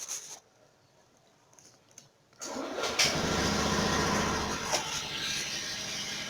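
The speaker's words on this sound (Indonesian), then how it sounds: "Ini akan saya coba nyalakan mesin dulu." A Honda automatic scooter's engine cranks after a few quiet clicks, then catches and settles into a steady, close idle that runs to the end.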